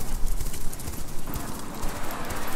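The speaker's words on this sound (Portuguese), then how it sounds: "que velozmente partiam os cavalos." Racing horses in a Roman circus chariot race gallop off at speed, a steady rumble of hooves under a wash of noise, continuous and moderately loud.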